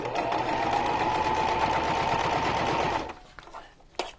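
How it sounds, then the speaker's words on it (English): A sewing machine stitches a back stitch on a junk journal cover, a steady, loud, close mechanical whir lasting about three seconds before stopping, followed by a few faint handling clicks. "I just did a little back stitch."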